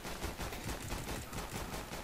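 Continuous automatic gunfire in Counter-Strike: Global Offensive, a fast, even string of loud, close shots with no pauses.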